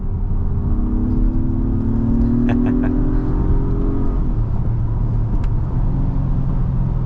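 A 2022 Acura MDX Type S with a 3.0 turbocharged V6 pulls forward in a steady low engine rumble and road drone heard from inside the cabin, with brief faint clicks partway through and no talking.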